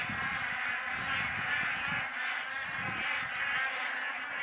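Migratory ducks call from a wintering wetland as a steady, busy layer of honks and quacks, a dense flock heard at a middle distance with no voices.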